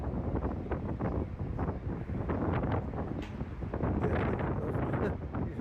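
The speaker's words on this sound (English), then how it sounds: "Sunny, windy day." Wind on a sunny day in Portland buffets the microphone in continuous rough gusts, loud and close, with no one speaking.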